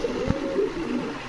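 Pigeons cooing at a fancy pigeon market in Bogura, Bangladesh, a few soft, low coos rising from steady background noise, with one short thump partway through.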